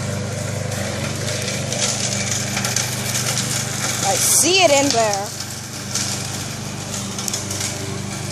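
A lawn mower engine drones steadily in the background while people talk nearby, with a brief crackling sizzle from a small bonfire rising midway.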